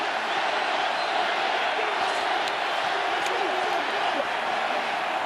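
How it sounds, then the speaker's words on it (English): A rugby stadium crowd at the 2024 Vodacom Bulls v Leinster URC semi-final, counting down the final seconds, makes a dense, steady roar of voices and cheering that holds unbroken throughout. "The crowd counting down the seconds that would see their team into a second Vodacom URC final"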